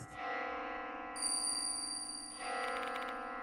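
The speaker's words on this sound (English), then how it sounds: "Where's this bell sound coming from?" Bell chimes ringing in the horror video game Death Mark II, a steady tonal ringing that shifts to higher, brighter pitches partway through and continues without talk.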